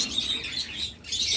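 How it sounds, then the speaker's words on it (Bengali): A breeding pair of cockatiels gives bright, repeated chirps and tweets close by, steady through the moment with no one talking. "চমৎকার ককাটেল জোড়া"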